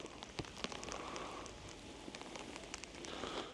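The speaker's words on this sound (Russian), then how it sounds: "по-моему, пошел прямо дождь." Rain falls in a park in Kamensk-Shakhtinsky in February, a soft continuous patter with scattered close drops ticking on surfaces nearby, fairly faint and steady throughout.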